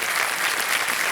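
Dense, steady applause from a large studio audience on a television quiz show fills the moment, a continuous roar of many hands clapping at once with no gaps.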